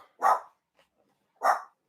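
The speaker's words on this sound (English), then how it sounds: "Stop that barking." A dog barks twice, close and sharp, the two single barks spaced a little over a second apart with near silence between them.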